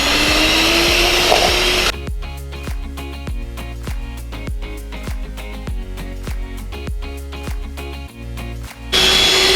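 An electric hand mixer whips cream for a chocolate ganache birthday cake, starting as a steady, close motor whir with rapid clattering from the beaters, running for about seven seconds before cutting off.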